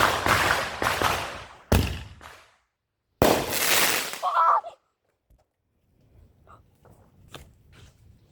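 Mortar fireworks going off outdoors as several sharp, loud booming bursts with crackling tails, followed by quieter distant pops and faint crackles.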